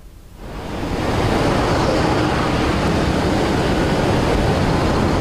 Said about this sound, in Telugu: మనీష, కృష్ణా నదికి వరద పోటెత్తుంది.